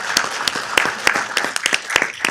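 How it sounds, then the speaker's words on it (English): An audience at a Downey city council meeting applauds city workers and the public works director with steady, scattered clapping from a modest crowd in a hall, sharp individual claps standing out. "So let's give them another round of applause."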